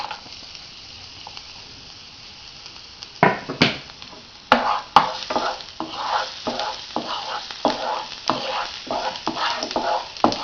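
Garlic hits hot olive oil with a steady, close sizzle, followed by repeated scraping stirs that come in an irregular rhythm over the frying.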